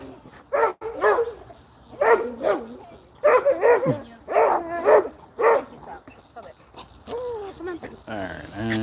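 Nearby, a dog lets out repeated sharp barks mixed with whining, high whimpers. The bursts come in uneven clusters with brief pauses between them, loud and close.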